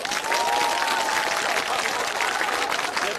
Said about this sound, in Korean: 대파 구조단 여러분께 심심한 전체 박수!